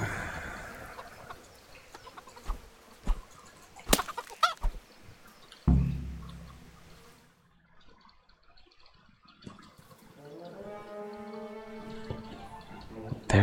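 Chicken clucking inside the medieval Bohemia world of the Kingdom Come: Deliverance video game, a few close, scattered clucks around game sounds and footsteps, later settling under soft background music.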